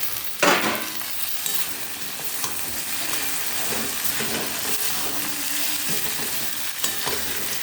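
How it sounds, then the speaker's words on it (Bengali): A fried fish head drops into a pan of spices, cashews and raisins with a sudden loud sizzle burst, then steady close frying and stirring scrapes continue. "হ্যাঁ, এবার এর মধ্যে ভাজা মুড়োটা দিয়ে দিলাম।"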